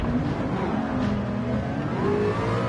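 A race car engine screams through the gears in a VR racing game set at the 24 Hours of Le Mans circuit, a steady, close, loud whine whose pitch climbs and dips as the car accelerates.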